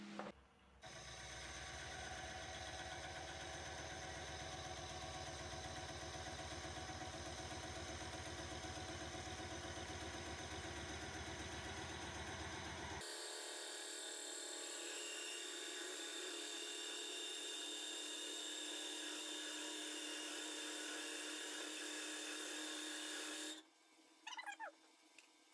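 A wood lathe cores a large maple burl and a cherry crotch, giving a loud, steady, dense mechanical whir and hiss. Partway through it shifts to a harsher, brighter cutting tone and then drops off abruptly near the end.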